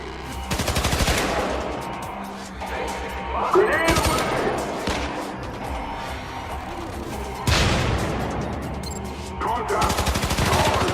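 Rapid bursts of automatic gunfire and booming shots from the video game Syndicate crackle loudly and repeatedly across the clip, with a voice talking over the fire.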